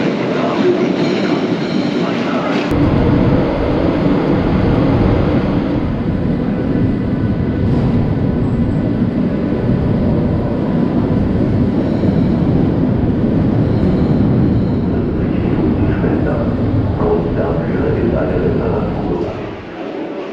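Swedish Railways Night Jet sleeper train in Hamburg, rolling past as a loud, steady rumble that starts abruptly and holds for nearly twenty seconds before easing slightly at the end.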